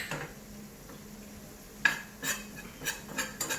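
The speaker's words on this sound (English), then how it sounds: "we have on the other pan a pan in which we have to fry a little bit of sorghum or jawar flour" A spoonful of sorghum (jowar) flour is dry-roasted in a pan on a kitchen stove, with soft, irregular scrapes and taps of a utensil stirring against the metal and a faint sizzle in the background.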